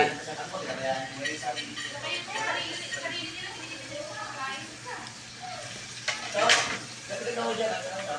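Sliced white onions sizzle and fry in a pan for a chicken tail adobo, a steady crackling hiss running under a man's close, casual talk throughout.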